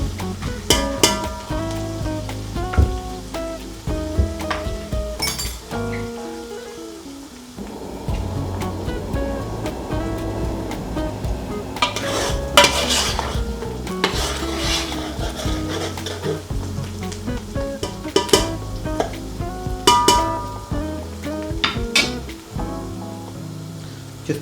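Onions sizzle and fry in a large pan on a gas cooker while a spoon stirs and scrapes them, giving steady hissing with repeated clinks and knocks against the pan. No one speaks.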